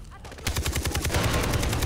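In the video game Far Cry 3, rapid automatic gunfire crackles in a fast, even burst of close shots, following a brief quieter moment.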